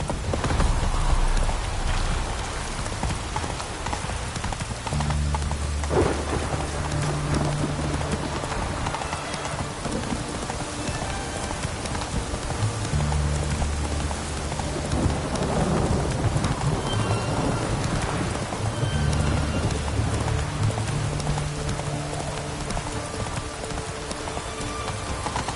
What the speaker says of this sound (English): No use doing any work in this rain.